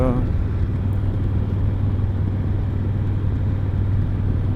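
A 2020 Harley Heritage motorcycle cruising on a rural road, its steady low engine rumble and wind noise continuous throughout, with a voice talking over it.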